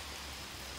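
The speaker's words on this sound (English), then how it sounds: "Here's the rain coming down at you." Rain falls at night during the Hurricane Michael storm over Fayetteville, Georgia, a soft, even hiss of steady downpour, faint and continuous with no voices.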